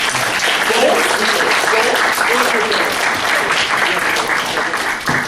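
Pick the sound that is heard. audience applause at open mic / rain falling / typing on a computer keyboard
audience applause at open mic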